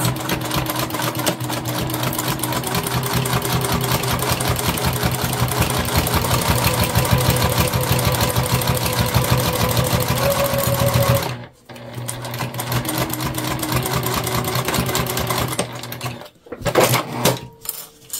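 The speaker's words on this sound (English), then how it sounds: "now we're going to stitch that on. Same seam allowance." Sewing machine stitching a seam on a fabric pack, a rapid steady mechanical clatter that cuts out briefly, then resumes in shorter bursts.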